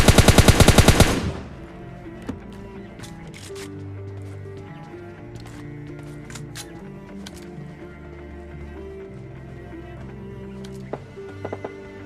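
Automatic gunfire from PUBG Mobile Lite, a rapid loud burst of shots right at the start, then quieter in-game ambience with a few faint scattered shots later on.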